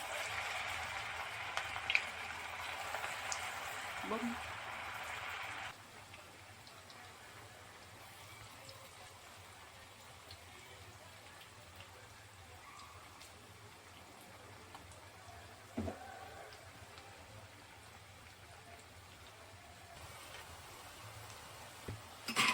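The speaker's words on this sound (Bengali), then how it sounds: "তেলটা গরম হয়ে গেছে, এবার একে একে এখন ছেড়ে দিব ছোটো ছোটো পিস করে।" Small vegetable manchurian pieces fry in hot oil, a steady soft crackling sizzle like light rain, louder for the first few seconds and then a quieter, even bubbling with occasional pops and clinks.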